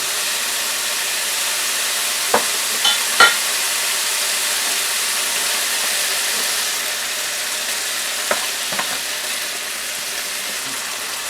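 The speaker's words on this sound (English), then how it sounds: "So I'm going to continue to brown the meat" Pork browning in a frying pan gives a steady, close sizzle, broken by a few brief clinks and scrapes as the meat is stirred.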